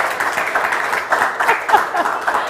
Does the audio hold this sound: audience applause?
yes